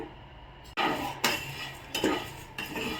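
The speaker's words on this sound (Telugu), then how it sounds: "మీడియం అటుకులు ఇది మనము డ్రై రోస్ట్ చేసుకుందాము" Medium poha flakes dry-roasting in a pan, tossed with a metal spatula in several close, loud scraping bursts and clinks separated by short pauses.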